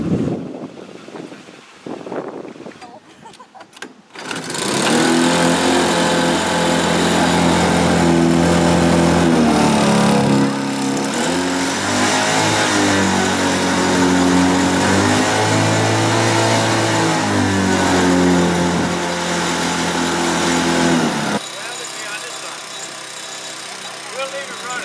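A boat motor roars to life after a few seconds of clatter and runs loudly and steadily, its pitch rising and falling slightly before dropping off near the end.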